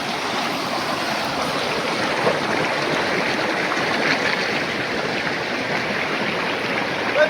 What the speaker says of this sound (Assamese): এইফালে নদীৰ মাত